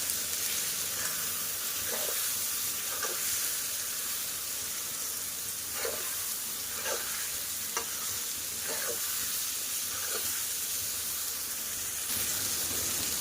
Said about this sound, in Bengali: খুব ভালোভাবে এবার সব কিছুকে একসাথে কষিয়ে নেব